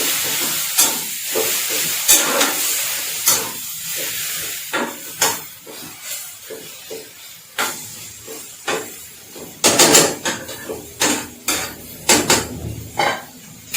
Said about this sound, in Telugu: నేను ఇందులోకి కొన్ని టమాటో పీసెస్ కట్ చేశాను, ఆ టమాటో పీసెస్ కూడా వేస్తున్నాను